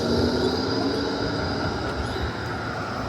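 A Melbourne tram at a roadside stop gives off a steady rumbling drone with faint metallic squeals, continuous and moderately close, with no voices.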